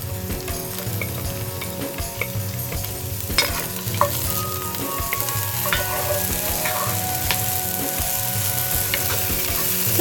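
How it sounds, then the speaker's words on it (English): Onions frying in coconut oil over high heat for curried duck, a loud, dense, continuous sizzle close by, with occasional stirring scrapes and light clinks of a utensil against the pot. "So I'm gonna add the onions in now."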